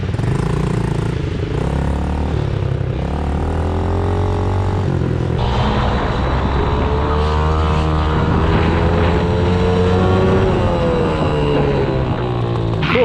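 A motorbike engine revs and drones as it is ridden around a race track, loud and continuous with rising and falling pitch as the rider accelerates and eases off.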